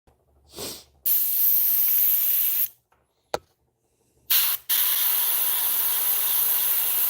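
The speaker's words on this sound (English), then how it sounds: "Let's spray the red while we have it." A spray paint can sprays red paint in bursts: a short puff, then long steady hissing blasts broken by brief pauses and a click, loud and close.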